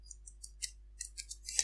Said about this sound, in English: So let's go and click on the plot button.